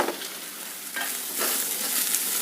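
Beans, carrot and capsicum fry in a hot pan with a dense, continuous close sizzle that swells louder midway, with occasional stirring scrapes and no voices.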